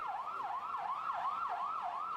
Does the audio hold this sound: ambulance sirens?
yes